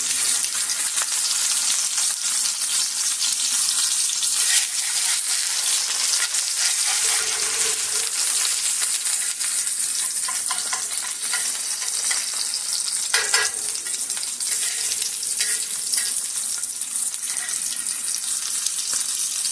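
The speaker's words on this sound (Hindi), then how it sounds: "और गरम ऑयल जो है वो इस पर डाल कर फिर कुक कर लेते हैं।" An egg fries in hot oil in a pan, giving a loud, continuous close-up sizzle with faint crackles and a few brief clinks.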